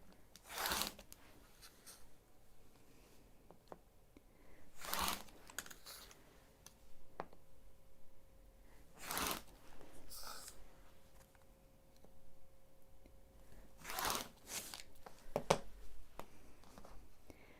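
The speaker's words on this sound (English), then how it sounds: "then we'll start cutting 5-inch strips" Rotary cutter slicing through quilting cotton on a cutting mat, cutting 5-inch strips for a pieced quilt backing, heard as a few sharp, separate crisp swipes spaced seconds apart against a quiet room, with no talking.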